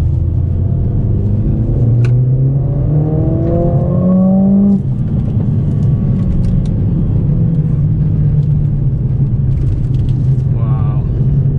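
2020 Mercedes-AMG CLA 45 Coupe heard from inside while accelerating, engine rising through the gears with audible shifts, then a steady loud road rumble and whir. Voices speak over the drive.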